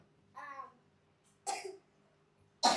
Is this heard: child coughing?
yes